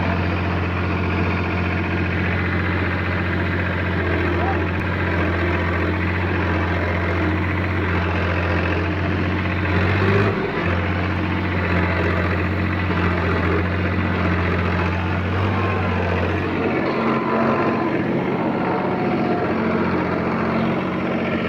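A tractor engine straining while stuck in a muddy field, a loud continuous low drone with steady pitch that shifts slightly partway through.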